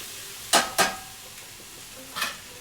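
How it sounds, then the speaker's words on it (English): A spoon scrapes through a frying onion mixture in a pan, a crumbly topping for kibbeh. Three short, sharp stirring strokes, two close together and one later, stand out over a low background with no talking. "I'm adding a little bit of this mixture to it to fry up and get crumbly."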